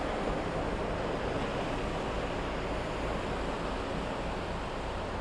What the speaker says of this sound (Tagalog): Yung simoy ng hangin, yung tunog ng alon.